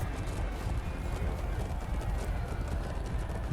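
Horse hooves in the medieval combat game Chivalry 2, a steady muffled clip-clop running under dense battle noise, with a voice speaking over it.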